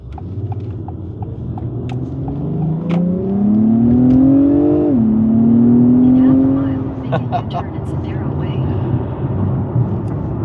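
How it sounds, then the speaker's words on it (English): A 2025 Acura TLX Type S in sport mode accelerates hard, its engine note climbing steadily in pitch and loudness, dropping briefly at a gear change, then rising again before easing off, heard loud from inside the car. "Let's see what it looks like when we accelerate."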